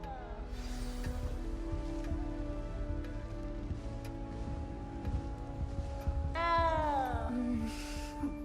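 A cat meows in the video game Hogwarts Legacy, a short rising-and-falling call near the end over a low ambient bed, following earlier game dialogue in the castle.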